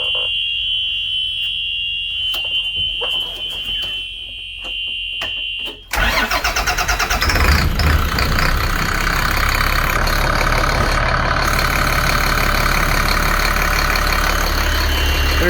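A 2006 Caterpillar C7 diesel engine with about 10,000 hours cranks over, catches and settles into a loud, steady idle, preceded by a high electronic warning tone.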